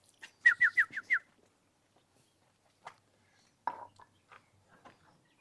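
A hen bird calls outdoors with a quick run of five sharp chirping notes, followed after a pause by a few fainter, scattered calls and soft sounds nearby.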